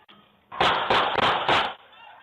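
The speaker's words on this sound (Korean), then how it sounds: "LA의 한 주택가 보안 카메라에 총소리가 잡혔습니다." Gunshots caught by a residential security camera in a Los Angeles neighborhood, four loud sharp bursts in quick succession, evenly spaced, with no voices.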